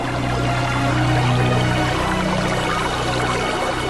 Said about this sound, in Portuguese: E saiu muita água.